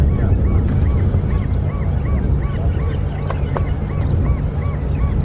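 Geese give repeated soft honks in a steady, overlapping pattern over constant low wind rumble outdoors at a dam in a South African game reserve.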